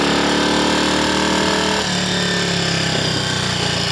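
A Triumph Scrambles Cub replica motorcycle engine revs steadily on a road ride, then drops in pitch as it shifts from second to third gear, with a wide gap between ratios; loud, continuous and close, with no talking.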